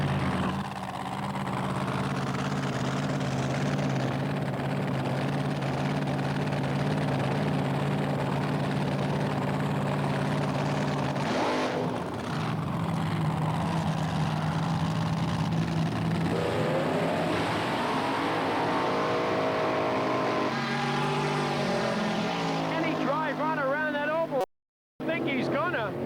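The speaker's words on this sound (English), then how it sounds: "Buck Proctor's car powered by another big block supercharged fuel-injected alcohol-burning Chevy." Big block supercharged, fuel-injected, alcohol-burning Chevy drag race cars run with a loud, sustained engine drone that shifts in pitch and surges near the end, under continuous commentary.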